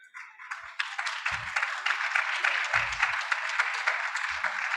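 Audience applause fills a conference pavilion at the COP26 Commonwealth Pavilion, steady dense clapping throughout with a few low thumps, no speech over it.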